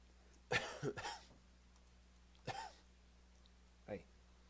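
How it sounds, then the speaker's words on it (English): A voice says "cough" three times instead of actually coughing, short separate bursts against a quiet background. "cough, cough, cough."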